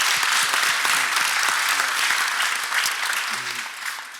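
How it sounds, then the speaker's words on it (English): An audience at a lunch event applauds a guest with dense, loud clapping that slowly thins out toward the end, with a few voices talking underneath. "you can give him a round of applause"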